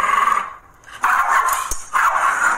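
A dog gives repeated whiny, whimpering barks while being brushed, three close, loud vocal bursts with short gaps between them.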